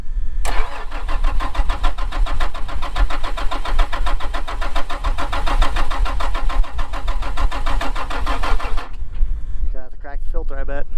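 A Case IH tractor's diesel engine cranks continuously after the key is turned, a loud rapid rhythmic churning that stops abruptly, followed by a brief voice.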